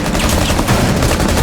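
Rapid automatic gunfire in Rainbow Six Siege, a loud, dense fusillade of overlapping shots filling the moment up close, with no talking.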